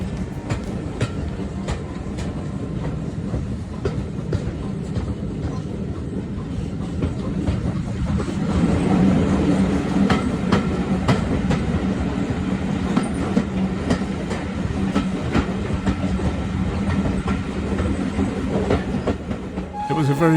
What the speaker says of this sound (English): The sound of the carriage's wheels clattering over the railway lines.